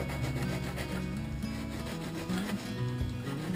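A knife blade slices a fish fillet away from the carcass during the preparation of a spearfished catch in northern Brittany, giving a close, steady rasping scrape that continues without pause.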